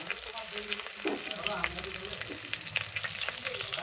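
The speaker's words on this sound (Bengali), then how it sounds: "লবণ আর হলুদ দিয়ে আবারও ভালো আলুটা আমি ভালো করে ভেজে নেব" Fried potatoes with salt and turmeric crackle in oil in a pan, a steady close sizzle broken by scraping stirs and light clinks, moderately quiet and free of speech.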